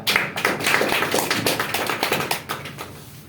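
An audience at a company presentation claps for the management, a dense, steady stream of many hands that rises loudly at once and then tapers gradually.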